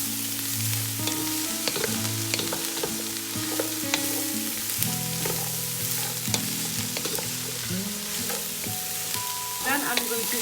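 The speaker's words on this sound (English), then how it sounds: "Then I'm going to fry at least 3 to 4 minutes." Mixed vegetables fry in a hot pan for a hot and sour soup, a constant crackling sizzle, with occasional scrapes and knocks of stirring running throughout.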